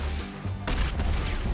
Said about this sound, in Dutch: Je hoorde het aan de dubbele explosie.